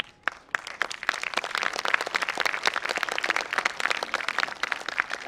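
A lecture audience at a wellness conference's scientific session claps hands, building from a few scattered claps into steady, dense applause that stays loud throughout.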